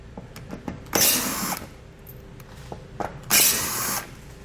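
Ratchet or driver with a 7mm socket taking out under-panel bolts on a 2019 vehicle while fitting a Roadmaster Direct-Connect base plate, two short loud whirring bursts between light clicks, close up.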